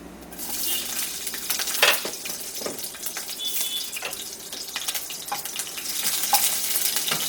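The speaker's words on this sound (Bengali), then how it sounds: "তেলটা গরম হয়ে যাওয়ার পরে এর মধ্যে আমি দিয়ে দিচ্ছি কালো জিরে আর কাঁচা লঙ্কাগুলো" Nigella seeds and green chilies hit hot oil in a pan, a steady close crackling sizzle with scattered sharp pops and spatters that continue without pause throughout.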